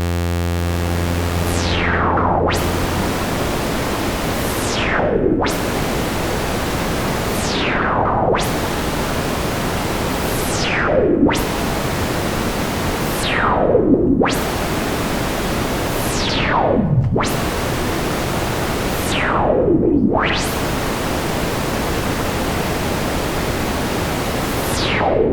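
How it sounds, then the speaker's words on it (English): White noise runs through a Serge Random Source Variable Slope VCF filter, sweeping down repeatedly in long hissing swoops, about eight falling sweeps that each reset to a bright wash, steady and loud with no voices. "Let's hear what all that sounds like with the white noise."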